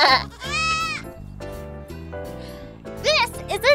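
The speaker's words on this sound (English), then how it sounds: "This is a goat. A goat says," A cartoon goat gives a wavering, nasal bleat, then two shorter bleats near the end, all over a steady children's nursery-rhyme backing tune on a farm-animal theme.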